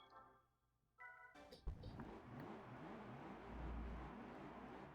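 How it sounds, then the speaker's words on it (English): Toyota Corolla rally car in the Gran Turismo 3 video game, its engine revving up after a few brief menu-like tones, then a steady, rising mid-pitched drone that swells louder toward the end. "We are driving the Corolla Rally Car."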